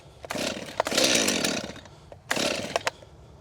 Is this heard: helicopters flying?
no